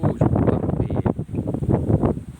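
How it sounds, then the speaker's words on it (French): Strong wind buffets the microphone in steady, rough gusts outdoors in rice fields in Isan, Thailand, loud and continuous throughout. "Un peu de vent"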